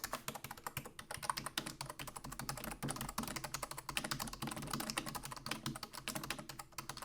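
Steady typing on an Amazon Basics keyboard, a dense run of quick, close key clicks and clacks with an even rhythm and no talking.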